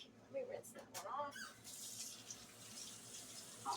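Hot water running from a tap while a canning jar is rinsed in a sink, a steady hiss and splash that continues behind talking.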